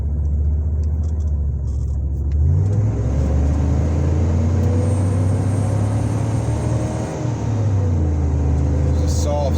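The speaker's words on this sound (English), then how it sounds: "It's a soft second shift." A truck fitted with a rebuilt Ford 4R100 transmission accelerates on the road, the engine note rising and then dropping smoothly as the gearbox makes a soft shift into second, then climbing again under steady road rumble, with occasional cab talk.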